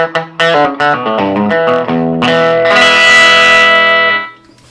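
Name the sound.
semi-hollow electric guitar playing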